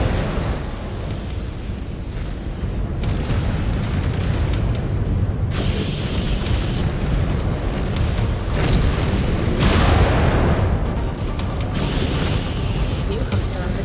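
In MechWarrior 5: Clans, missile explosions thud and boom in heavy, overlapping bursts over a constant loud rumble, with voices talking over the combat.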